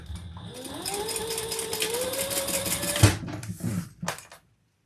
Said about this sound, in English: I'm going to go ahead and baste them. Just a few little stitches, just to keep them where they need to be.